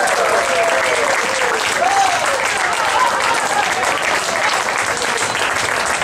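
A concert audience at an outdoor Disneyland performance by a trombonist and a college big band applauds in a dense, steady roar of clapping, with faint cheering voices mixed in.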